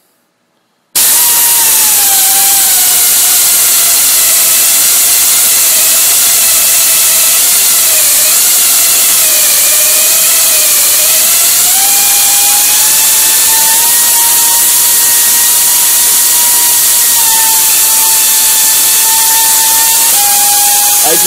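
A pneumatic tapper threads a pre-drilled hole in hardened steel, giving a loud, steady high-pitched whine that runs for about twenty seconds after a brief silence. The pitch dips and wavers under load, then rises and holds near the end as the tap breaks through.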